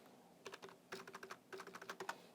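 Someone types on a computer keyboard while entering accounting data, producing quiet, close key clicks in three quick bursts, each a rapid run of taps separated by short pauses, with no talking.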